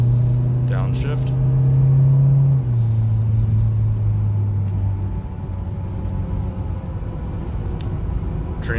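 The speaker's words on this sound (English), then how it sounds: "Car's going down the road, you can see, at about 60 miles" Inside a 1987 Chrysler LeBaron Turbo Coupe on the road, a loud engine drone drops in pitch after a downshift, then settles into a steadier, quieter rumble with road noise.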